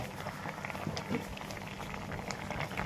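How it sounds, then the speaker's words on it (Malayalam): Liquid bubbling at a full boil in a pot while cooking pidi and chicken, a continuous dense gurgling and popping, fairly close and steady throughout with no talking. "അപ്പോൾ നല്ലോണം തിളച്ചു നമ്മൾ പതുക്കതൊന്ന് ഇളക്കി കൊടുത്തു"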